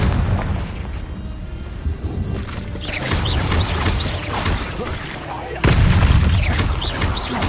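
Confringo blasting spells in Hogwarts Legacy set off repeated booming explosions amid heavy combat noise. The blasts are loud and close, with a particularly strong burst near the end, and voices are heard in the mix.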